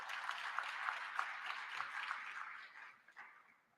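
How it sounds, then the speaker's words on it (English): Audience applause at a TSU press conference, a soft, somewhat distant patter of clapping that fades away near the end. "give them a round of applause"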